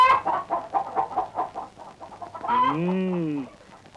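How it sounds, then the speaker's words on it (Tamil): A chicken clucks in a quick run of short, close calls, then lets out a longer rising-and-falling squawk. "கோழி வர வேண்டிய இடத்துக்கு தான் வந்திருக்கு"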